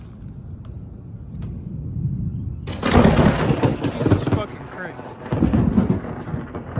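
Thunderstorm in Florida with rain: a steady low rumble of rain and wind, then a loud crack of thunder that rolls on for several seconds, swelling again near the end, close and heavy.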